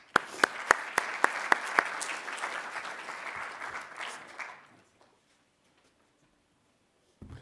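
Audience applause at a collegiate alternative investments summit welcoming Dean Hugh Courtney of a business school: steady clapping with a few sharp claps up front, fading out after about five seconds into silence.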